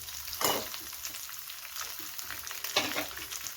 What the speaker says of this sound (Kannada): ಇವಾಗ ನೋಡಿ ಪನ್ನೀರು ಸ್ವಲ್ಪ ಲೈಟಾಗಿ ಫ್ರೈ ಆಗಿದೆ.